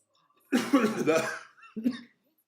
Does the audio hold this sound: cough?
yes